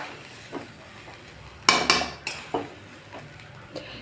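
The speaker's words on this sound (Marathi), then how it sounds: "ही आता चांगलं तूप टाकून परतायला लागली" Modak dough roasting in ghee in a pan, Solapur-style, with a spoon clattering and scraping against the metal in a few sharp, close knocks over a faint low background.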